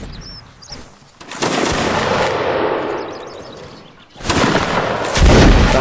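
Napoleonic-era musket fire in Mount & Blade: Napoleonic Wars line battle, a ragged volley of many shots cracking together, a lull, then another loud burst of massed musketry, close and harsh.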